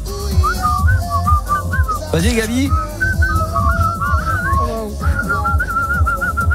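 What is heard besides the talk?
person whistling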